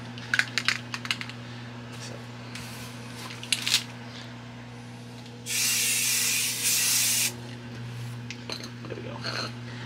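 Spray can laying a primer coat onto a Corsair Hydro Series XG7 GPU water block: two bursts of loud hissing spray, briefly interrupted, follow scattered light clicks and handling noises over a steady low hum.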